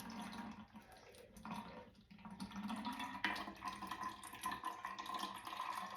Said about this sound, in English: It's just gonna flow through your strainer.